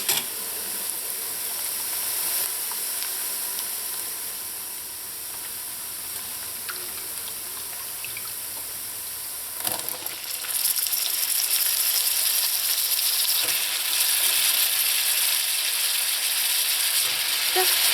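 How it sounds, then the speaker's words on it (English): Potatoes fry in a pan with browned onions and garlic, giving a steady soft sizzle and hiss that grows louder partway through as more food hits the hot oil. "go ahead and add in all of your potatoes"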